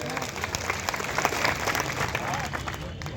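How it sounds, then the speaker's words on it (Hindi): Crowd applause rises at a Congress party political rally in Indergarh welcoming Mallikarjun Kharge, a dense, continuous clatter of many hands with a low murmur of voices underneath. "एक बार जोरदार ताली बजाकर उनका स्वागत करें"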